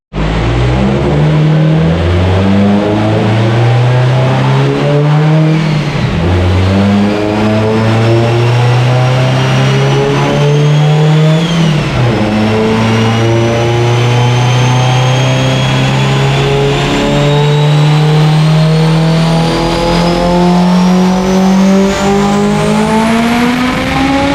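Stock-block Subaru EJ257 race engine screaming through a loud, sustained dyno pull under heavy boost, revs climbing steadily with brief dips at shift points, harsh and close throughout.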